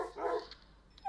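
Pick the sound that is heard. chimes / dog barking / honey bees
dog barking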